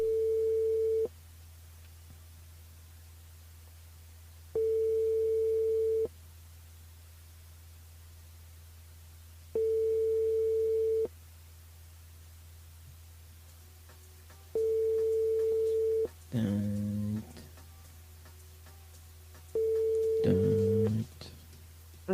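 Telephone busy signal on a call that fails to connect, five evenly spaced steady tones over a constant low hum, with brief bursts of a voice over the line between them.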